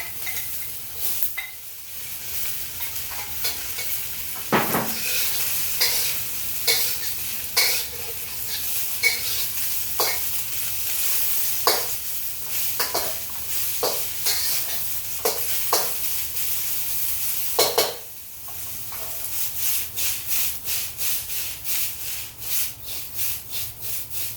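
Egg fried rice is stir-fried in a wok with a wok spatula, giving continuous loud sizzling with rhythmic scraping strokes across the metal, a brief pause, then faster repeated scraping.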